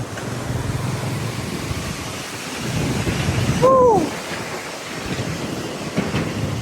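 Rupse waterfall in Mustang, Nepal, a steady broadband roar of falling water that fills the scene from start to finish, with a brief tonal sweep and a swell in loudness partway through.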